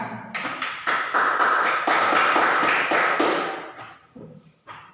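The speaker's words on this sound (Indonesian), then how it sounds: "berikan aplaus kepada kelompok 2 ya yang sudah mempresentasikan hasil kerja mereka" Students in a junior high classroom clap for a presenting group, a short burst of hand claps that swells quickly, holds for about three seconds, then thins into a few scattered claps.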